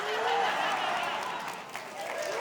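Audience members at a senior church gathering applaud Hannah with steady, dense clapping throughout, with a high murmur of voices under it.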